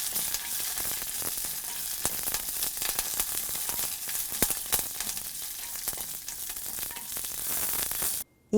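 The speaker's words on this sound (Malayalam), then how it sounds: "3 തണ്ട് കറിവേപ്പിലയും മുറിച്ച് വച്ചിരിക്കുന്ന 3 വറ്റൽമുളകും കൂടിയിട്ട് ഫ്രൈ ചെയ്തെടുക്കുക" Three sprigs of curry leaves and three cut dried red chillies fry with mustard seeds in hot oil for ginger curry, giving a steady, close crackling sizzle with sharp pops that runs evenly before cutting off abruptly.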